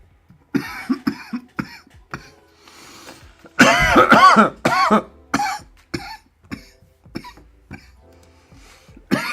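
Repeated coughing, close and harsh, with a long heavy fit in the middle and shorter coughs before and after.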